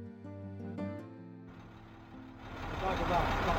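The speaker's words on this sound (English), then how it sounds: "Sorry about the truck noise there, but Logan had started the truck up." Truck engine starting up and settling into a running rumble, heard close and fairly quiet after some brief tonal sounds at the start, with speech also present.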